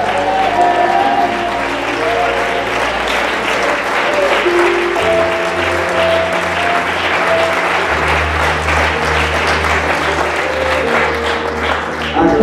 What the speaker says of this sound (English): Clap your hands and shout yes to the Lord.